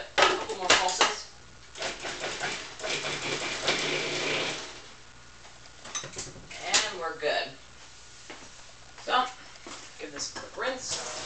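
A kitchen blender or food processor runs in several short pulses, each a loud whirring burst separated by pauses, with a person talking between and over them.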